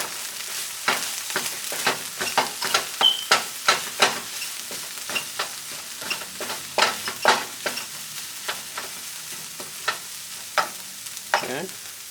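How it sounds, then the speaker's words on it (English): Garlic frying in a pan for a Jamaican lentil curry, stirred with steady scraping strokes over a constant sizzle, close and fairly loud, with a dozen or so sharp stirring scrapes spread across the stretch. "I'm gonna cook this for about a minute with the garlic in there."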